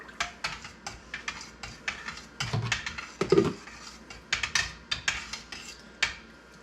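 A spoon stirring yogurt starter into milk inside an Instant Pot, giving close, irregular clinks and scrapes against the metal pot with no talking.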